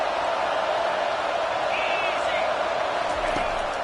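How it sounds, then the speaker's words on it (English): A large crowd at a Nebraska versus Arkansas college football game roars in a sustained, even wash of noise while a broadcast commentator talks over it. "It is getting loud as this crowd tries to help its defense."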